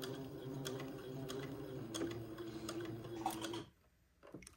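Sewing machine stitching a neckband, its motor humming steadily with quick regular needle ticks up close, then stopping abruptly near the end before a faint click.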